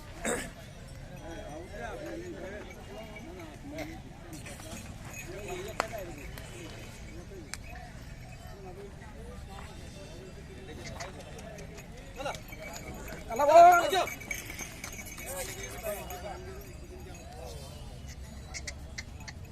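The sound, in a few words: pair of bullocks walking at a bull market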